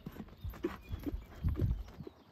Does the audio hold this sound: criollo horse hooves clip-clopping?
yes